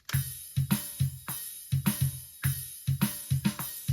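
A GarageBand drum beat, quantized to a rigid grid, repeats with mechanically even kicks, snares and bright hi-hats, close and steady with no voices over it.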